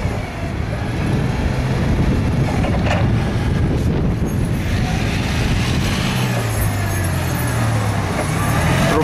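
A Nissan propane forklift with cushion tires and a 3,000-pound capacity runs steadily, its low engine drone continuous and fairly loud from start to finish with no speech over it.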